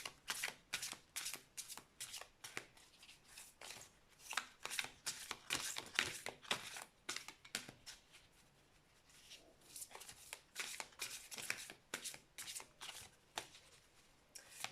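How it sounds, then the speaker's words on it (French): Tarot cards are shuffled and cut by hand, a quick run of crisp, papery riffles and slaps in close, quiet, irregular bursts with almost no talking. "On va faire une coupe au tarot"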